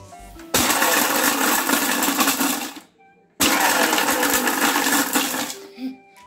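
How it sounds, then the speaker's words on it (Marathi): A kitchen mixer grinder runs in two loud pulses of about two and a half seconds each, separated by a short pause. The whirring is close and steady while the motor is on, and it drops away sharply each time the pulse is released. "हे आमचे मिक्सर आता आपल्याला हे बारीक करून घ्यायचंय पल्स वरती फिरवत राहायचं"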